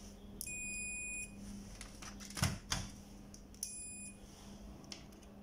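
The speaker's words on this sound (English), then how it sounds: "Set multimeter to continuity." Two steady electronic continuity beeps from a multimeter, each about a second long, as the probes bridge a fuse on a Sharp 29K-FG1SF television, with faint clicks of probe contact between them.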